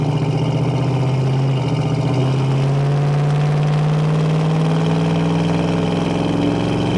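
A 1972 Chevrolet Chevelle with a 350 engine pulls under acceleration from inside the car, its loud, steady drone rising slowly in pitch across the whole stretch.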